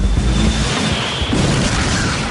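A RAM fast-attack missile launches from the aircraft carrier Ike, a loud sustained roaring blast that rushes continuously for the whole moment without talk.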